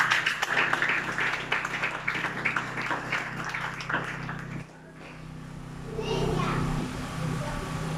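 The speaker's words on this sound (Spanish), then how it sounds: "Denle un aplauso al Señor" A church congregation applauds in a broad, sustained wash of clapping mixed with voices and children, loud at first, then dipping briefly before swelling again.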